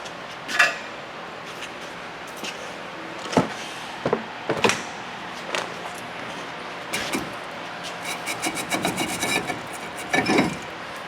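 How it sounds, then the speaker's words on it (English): A brake rotor is pulled off the rusty wheel hub of a 2005-2011 Dodge Dakota, giving scattered metallic clunks, scrapes and rubbing knocks at close range with quiet gaps between them. "Rotor comes right off."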